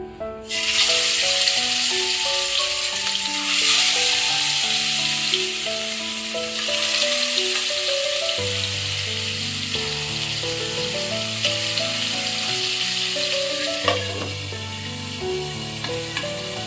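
Pieces of boal fish coated in turmeric and salt fry in hot oil with a loud, continuous sizzle, steady throughout with slight rises and a brief crackle near the end, under background music and no talk.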